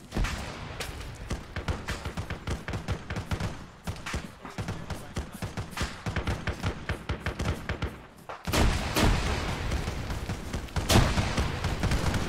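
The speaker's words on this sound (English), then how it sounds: "That's a lot of grenades." Grenades and gunfire in a Halo video game battle, rapid thumping bursts and blasts going off repeatedly, with a louder, denser explosion near the end.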